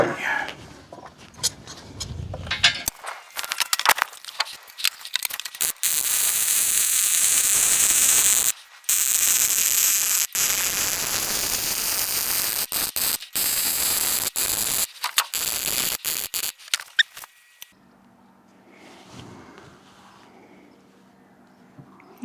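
A heat gun blows steadily onto a metal lid for a gas bottle box, a loud, close hiss broken by short cut-outs and clicks, then stopping to leave a quiet hum toward the end.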